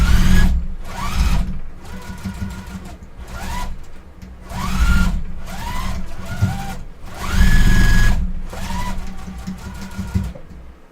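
A Juki TL-2010Q sewing machine stitches quilt seams in bursts of fast whirring motor drone and rapid needle clatter with short pauses between runs, close and loud with no talk.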